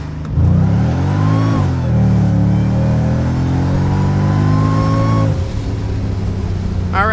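A Mercedes SL55 AMG with the supercharged M113K V8 revs hard through an acceleration pull, engine note climbing steadily in pitch through the gears, loud and close with a short shift dip, then settling lower at the end.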